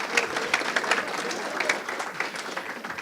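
Applause from an audience at a women's basketball head coach introduction, a dense steady patter of many hands clapping throughout, moderately loud and continuous with no clear pauses.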